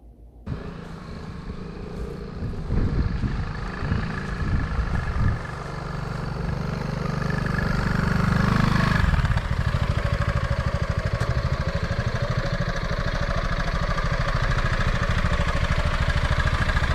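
A 2024 Piaggio MP3 530 scooter engine starts up and runs close by, revving up into a steady, loud buzzing drone that holds without any talking.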